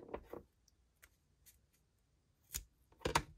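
Scissors snipping through a strip of papercrafting material for a face shield: a few sharp, close cuts, two near the start and two at the end, with faint ticks in between and no talk.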